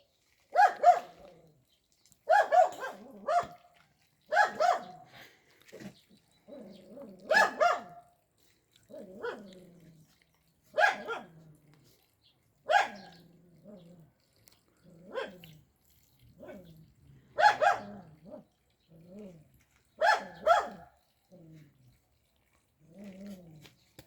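A dog barks in short, regular bursts, about a dozen barks spaced a couple of seconds apart, fairly close with quiet gaps between.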